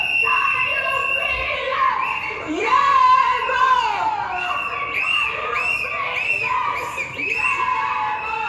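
Housemates on a reality show jubilate together, a dense crowd of high excited shouts, whoops and squeals overlapping continuously and loudly throughout, with a brief surge of screaming in the middle.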